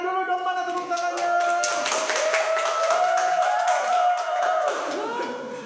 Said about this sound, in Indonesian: Tepuk tangannya dulu dong, mana tepuk tangannya?